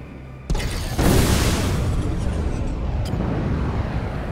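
Missile launch from a fire lock missile device in Star Citizen space combat, a sudden booming roar that swells and sustains as a loud rushing rumble, with a faint click partway through.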